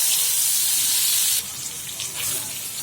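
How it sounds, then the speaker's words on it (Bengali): Eggplant slices frying in a pan give off a loud, steady, close hissing sizzle that eases slightly partway through and then continues without a break. "এখন আমি বেগুনটা ভেজে নেব।"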